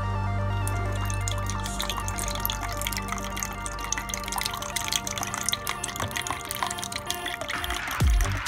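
Soy sauce being poured from a cup over chicken in a bowl, with a steady, close liquid trickle and dripping that ends with a few splashes.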